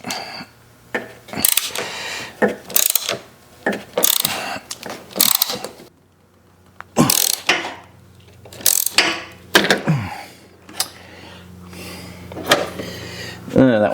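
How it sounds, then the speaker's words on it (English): A wrench ratcheting on a nut while working on the light of a Master Tow tow dolly, with bursts of close clicking and metallic clanks broken by pauses, and someone talking at times. "just need a wrench to hold the nut on the back here."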